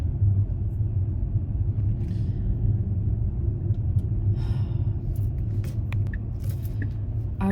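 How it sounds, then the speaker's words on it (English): Road traffic rumbles steadily from inside a car, a continuous low drone of engine and tyres at even loudness, with a few faint brief sounds near the end. "I'm in traffic."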